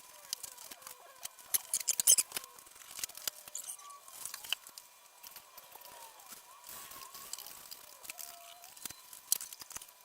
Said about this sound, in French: il découpe son tissu